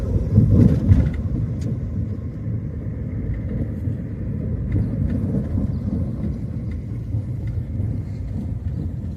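A car drives on a rough, poor road, giving a loud, continuous low rumble of engine and tires from inside the cabin, with a few bumps near the start.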